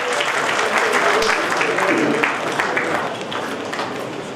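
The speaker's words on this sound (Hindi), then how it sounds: "कविता के लिए जोरदार तालियां हो जानी चाहिए।" Loud, sustained applause from an audience at an award ceremony in Bikaner, steady clapping filling the hall for several seconds.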